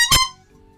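A short, bright horn-like honk, a single blast about a tenth of a second long with strong harmonics, fading quickly into quiet; it is likely a voice mimicking a car horn.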